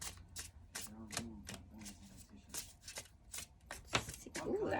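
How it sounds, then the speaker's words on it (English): A deck of tarot cards is riffled and shuffled in a quick series of crisp bursts, close up, followed by a flurry of snapping card sounds at the end. "5 shuffles."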